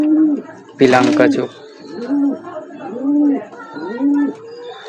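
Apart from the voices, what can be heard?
Dobaj line pigeons cooing in the loft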